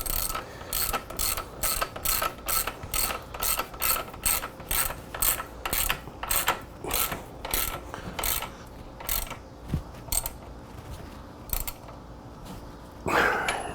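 A ratchet wrench with a 22 mm socket turns the rear axle nut on a Yamaha R3 motorcycle, clicking in steady repeated strokes up close, then slowing before a final clunk.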